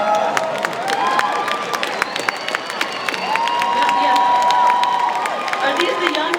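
Young crowd at a political rally cheering and applauding, sharp claps over sustained whoops and shouting voices, loud and lively throughout, with a high yell swelling midway.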